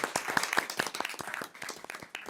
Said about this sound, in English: Deserves applause.